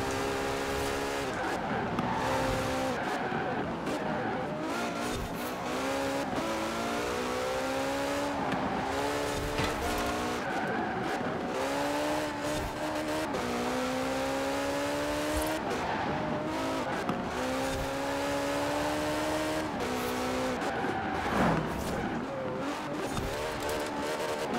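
A Ferrari LaFerrari in Forza Horizon 4 slides across snow, its engine revving and shifting through rising and falling pitches while tires hiss and skid, steady and close for the whole stretch with a voice talking faintly underneath.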